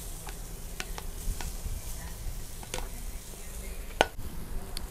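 Garlic and vegetables with achiote fry in a pan for a fish chupe while being stirred: a continuous close sizzle under irregular scraping clicks of the spoon, with one sharper knock near the end and no voices.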